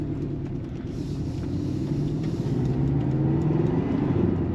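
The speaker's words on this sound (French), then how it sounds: "au niveau de la sonorité, on n'a pas l'impression que c'est un 4 cylindres, ça a été vraiment retravaillé par Porsche" Four-cylinder engine of a 300-horsepower Porsche 718 Boxster, a deep, steady, close rumble that gently builds and swells, with no voices.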